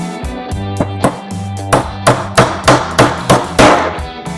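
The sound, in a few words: StarTool Master wooden-handled hammer striking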